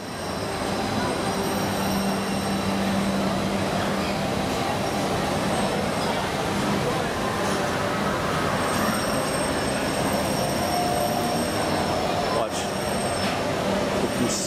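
Disneyland's Monorail Red runs along its track with a loud, continuous rumble and hiss from start to finish, a steady drone with faint background voices.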